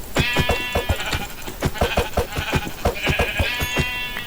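Sheep bleat repeatedly in a video game, rapid overlapping calls in a fast, steady rhythm that fills the whole stretch, loud and close with no talking.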